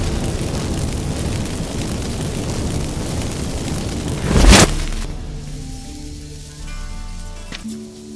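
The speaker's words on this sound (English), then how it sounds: "Get ready for some magic fireworks" Magic incense fireworks in The Witcher 3 video game give a steady hiss and crackle that builds to one sharp burst near the middle, then dies into a quieter hum with a faint ringing tone.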